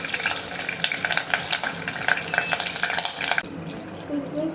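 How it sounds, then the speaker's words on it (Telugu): Green chillies fry in oil in a pan for a mutton curry, crackling and sizzling under quick spoon stirs and scrapes, before the sound suddenly drops to a quieter simmer near the end. "పచ్చిమిర్చి వేస్తున్నాను."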